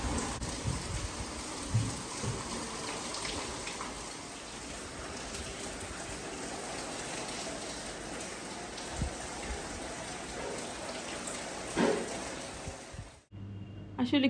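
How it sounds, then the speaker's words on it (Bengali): Heavy monsoon rain pours down steadily in a dense, unbroken hiss close by. A few faint voices sound under it, and it cuts off abruptly near the end. "আসলে কি সুন্দর ঝুম বৃষ্টি"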